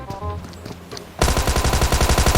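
Rapid automatic gunfire in PUBG Mobile bursts in suddenly after a quieter moment, with loud, close, evenly spaced shots in a fast continuous string.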